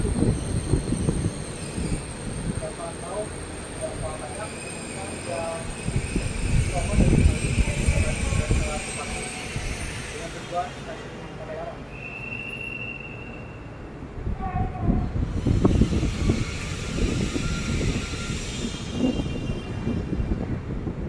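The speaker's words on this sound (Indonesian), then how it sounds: "Oke, kereta sudah berhenti di jalur satu atau di peron satu." A Whoosh high-speed train rumbles and rolls into Padalarang station, wheels squealing briefly as it slows to a stop at the platform, with people talking nearby over the steady mechanical noise.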